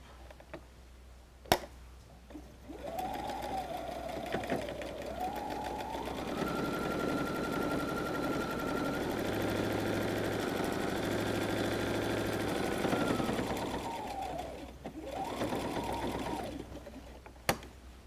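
Sewing machine stitching a pleat fold down on a messenger bag: a steady motor whir that speeds up and holds, then slows and restarts, with sharp clicks at the start and end, close and alone.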